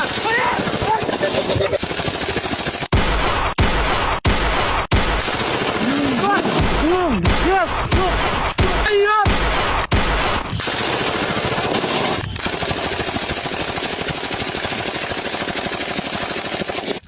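Comedy sketch gunfire effects: long bursts of rapid machine-gun fire and single loud shots, mixed with whistling, crashing effects and shouted voices over nearly twenty seconds.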